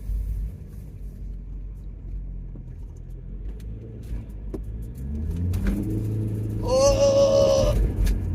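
A £500 Audi A6 with a turbocharged engine, heard from inside as the engine note rumbles low, then rises and swells as the car pulls harder under boost, with a brief whistle-like tone near the end.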